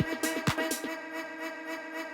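A vocal sample run through Ableton's Granulator device, giving a short burst of stuttering, repeated grain hits with a sustained tonal smear trailing behind them, fairly quiet and alone.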